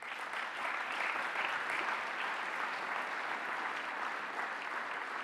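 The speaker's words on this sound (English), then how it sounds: "please give yourselves a round of applause" Guests at a gala dinner toast break into sustained applause, a steady broad wash of many hands clapping at moderate distance, even in level throughout with no talking.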